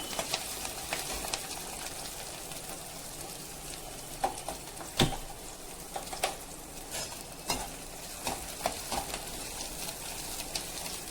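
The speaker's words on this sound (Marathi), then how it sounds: "व्यवस्थित परतून घेऊया" Onions sauté in a pan for spicy taro leaf vapudi, a steady soft sizzle broken by scattered scraping stirs of a spoon, moderately quiet and close, no voices.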